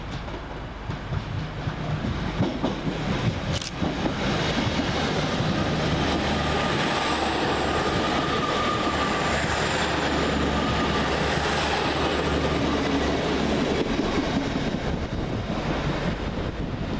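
Train 802215, a Newcastle to Manchester Piccadilly service, passes through Guide Bridge station with a steady, loud rumble and faint clickety-clack of wheels, buffeted by wind noise throughout.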